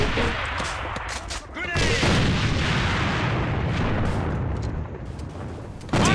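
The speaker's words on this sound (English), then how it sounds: "Grenade straight ahead." Grenade explosion in the competitive shooter AVA during a tournament match, a loud boom just before two seconds followed by sustained rumbling blast and gunfire noise for several seconds.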